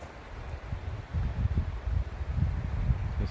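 Cold wind on a hiking trail near McAfee Knob, Virginia, in temperatures around the 30s°F, buffeting the microphone in low, uneven gusts that rise and fall with no talk.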